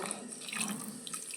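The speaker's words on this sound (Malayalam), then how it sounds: "വെള്ളം ഒഴിച്ചു" Water pours steadily into a cooking pot, a continuous splashing rush close by with no voices.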